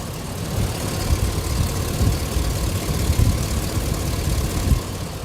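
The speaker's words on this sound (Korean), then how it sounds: "엔진 소리 한번 바로 들려드릴게요" A Hummer H2 SUT's large 6.0-litre V8 engine idles close by with a steady, deep rumble and slight uneven throbbing, with no voices.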